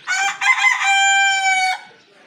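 A chicken calls loudly and close by, a single drawn-out crowing cry with a short clucking lead-in that trails off, heard alone.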